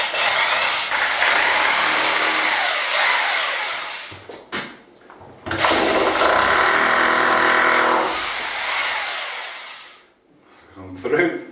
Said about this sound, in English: I've piloted my batten, I've marked the holes, I'm just going to drill them out now.